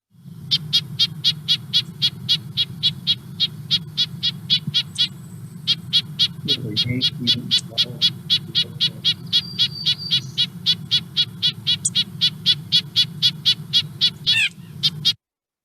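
Rapid, continuous nasal tooting calls from a red-breasted nuthatch, a long fast steady series, close and clear over a low background hum.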